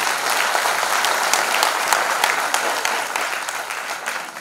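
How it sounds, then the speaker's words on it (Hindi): Audience at the 'Atal Geet Ganga' event clapping for actress Divyanka Tripathi, a loud, steady crowd applause with crisp individual claps that eases slightly toward the end. "तालियां और भी बजानी पड़ेंगी"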